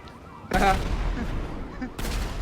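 A loud, sharp blast bursts in and rings out in a broad noisy wash, then a second burst hits about a second and a half later, near and forceful.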